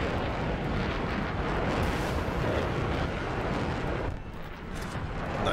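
Missile launch and explosion in the video game War Thunder, a loud, dense roaring rumble that holds steady for several seconds before dipping briefly near the end.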